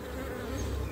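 Honeybees buzz steadily at an open hive whose frames are mostly new, a dense continuous drone of many wings, close and fairly loud throughout with no voices.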